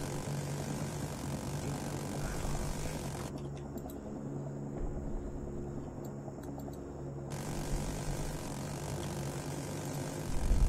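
A Loach helicopter in Rising Storm 2 drones steadily overhead, a continuous mid-distance rotor and engine hum that holds at an even level throughout.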